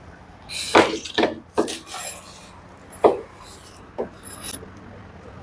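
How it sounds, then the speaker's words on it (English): Screws being worked loose from the panel of an LG top-loading washing machine, a series of scraping, rasping turns and a few sharp knocks close by, with quiet pauses between. "here we can remove these screws also."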